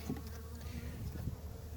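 A steady, close buzz of honey bees hums continuously, droning around a hive, with no voices.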